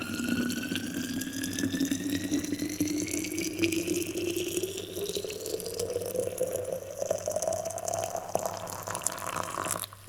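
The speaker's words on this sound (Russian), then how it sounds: "заливаем кипяточком." Boiling water pours steadily from a kettle over herbs for tea outdoors at a winter campfire in -30° cold, a continuous close splash whose pitch rises gradually as the vessel fills.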